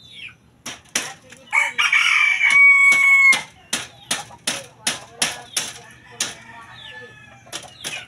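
A Boston double banded rooster crows nearby, one drawn-out call among a steady series of sharp, evenly spaced clicks or taps.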